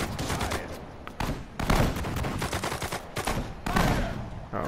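Volleys of rifle and machine-gun fire from a Pacific War battle in the PS4 strategy game Sudden Strike 4, loud and continuous, with overlapping bursts throughout.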